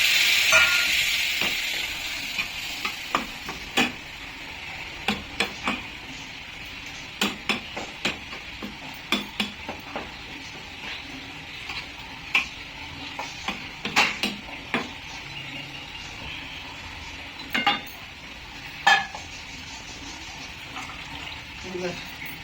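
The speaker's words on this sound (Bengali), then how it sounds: "এবারে একটু অল্প জল দিলাম" Stirring a little water into fried, browned masala in a pan on a mini stove: a steady sizzle runs throughout, broken by repeated sharp clinks of a spoon against the pan at irregular intervals, close and moderately loud.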